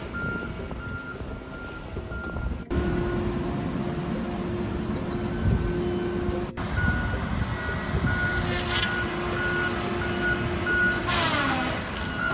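Log skidder working a pine timber harvest on a Georgia farm: a steady, loud diesel engine drone with a tonal whine, a clanking shift partway through and rising machinery noise near the end, close by.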